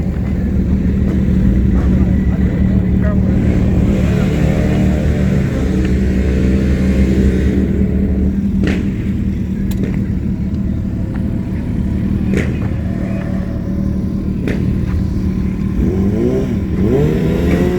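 A 2020 Suzuki GSX-R 1000, unrestricted, launches at a drag strip with a loud, sustained engine roar through rising gear changes, crowd noise and chatter underneath.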